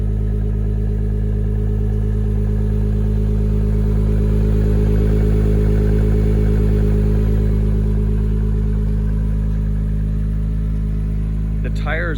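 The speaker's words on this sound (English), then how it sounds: "I have the car in Sport Plus mode right now, which gives it definitely a louder exhaust" A 2017 Acura NSX sports car in Sport Plus mode, its exhaust holding a steady, loud, low droning note at idle throughout with no change in level.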